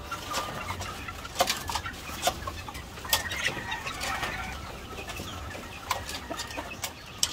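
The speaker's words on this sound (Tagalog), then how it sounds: "So yan yung mga palahi natin na mga white leghorn na mga pure." Pure white leghorn chickens newly kept as breeding stock cluck and call in a pen, with scattered sharp squawks and bursts of wing flapping over a steady barnyard hum; no one speaks.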